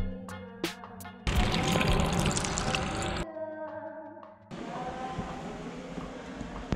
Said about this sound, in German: Der ist angesteuert über eine 12 Volt Tauchpumpe im Tank.